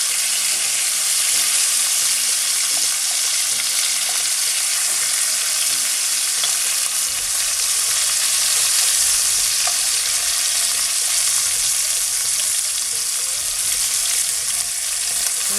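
Fish frying in a pan of oil for Bengali fried fish, a steady loud sizzle running without break, with a deep low crackle easing off partway through.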